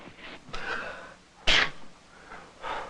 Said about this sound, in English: The only thing that makes me sneeze is cat fur.